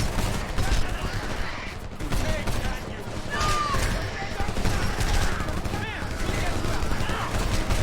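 Gunfire fills a Homefront game battle with dense, sustained bursts of shooting and crackling impacts, loud throughout, while someone talks over it.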